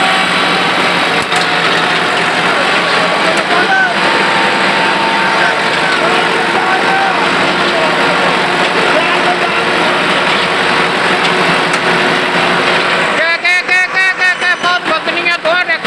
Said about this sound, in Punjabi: ਦੇਖ ਲਓ ਹੁਣ ਦੋਹਾਂ ਟਰੈਕਟਰਾਂ ਨਾਲ ਖਿੱਚਣ ਲੱਗੇ ਆ।